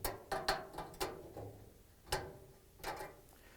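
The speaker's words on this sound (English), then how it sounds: "I'm going to use the flathead screwdriver. I'm going to pry this off, and then the other one." Sharp metallic clicks and snaps from a flathead screwdriver prying wire connectors off a Whirlpool/KitchenAid/Maytag high limit thermostat, about eight distinct close taps and pops spread irregularly, with no talking.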